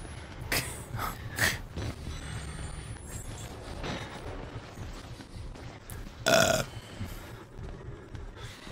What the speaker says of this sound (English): Stop, don't you dare burp in that mic